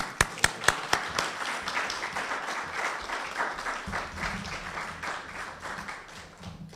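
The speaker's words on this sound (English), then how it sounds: "We can continue with that applause." Audience applause at an evening presentation on Harriet Tubman, opening with a few sharp separate claps before swelling into steady, fairly distant clapping from a crowd that continues throughout.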